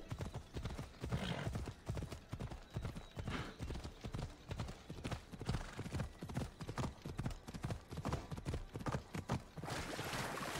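Horse hooves clip-clop steadily at a brisk pace in Assassin's Creed Odyssey, the Fate of Atlantis expansion, with a brief whinny partway through, loud and continuous over game ambience.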